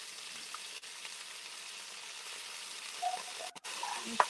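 Green beans go into a hot pan of oil and sizzle with a quiet, steady hiss, followed by a few small clatters near the end.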